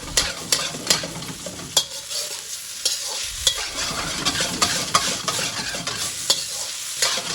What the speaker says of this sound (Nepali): अब हाम्रो चाउमिन लगभग फ्राई भइसकेको छ।